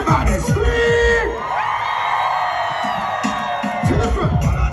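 Large party crowd on the open deck of the Carnival Radiance cruise ship screaming and cheering during a sailaway deck party, a loud sustained roar of yells and whoops with some high shrieks, swelling again toward the end.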